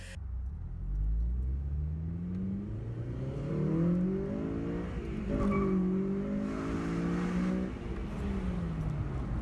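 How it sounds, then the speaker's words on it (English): A 2006 Honda Civic Si with a Hybrid Racing cold air intake accelerates hard, its VTEC engine rising in pitch through repeated revving pulls, loud and close, with a brief shift midway. "Honestly, the VTec pulled hard in this."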